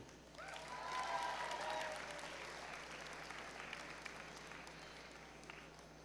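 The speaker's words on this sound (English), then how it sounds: "Ladies and gentlemen, let's give these students a round of applause" An audience at a high school honors awards assembly gives students a round of applause, many hands clapping together, swelling early then settling into a steady, slightly distant roar of clapping across a large room.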